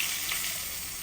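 A brief, steady hot sizzle of spiced oil tempering poured over a taro-stalk mixture, heard close and even throughout.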